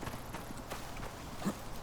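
Pronghorn hooves running in the survival game Icarus: a light, quick patter of hoofbeats that sounds faint and somewhat distant over a steady background, with no voices.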